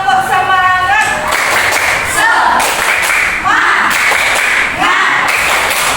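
A school class performs a rhythmic spirit clap, with children's voices chanting loudly in bursts over patterned hand claps close by.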